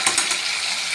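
Marinated food frying in a pan, a short burst of crackling sizzle at close range with small pops, no voices.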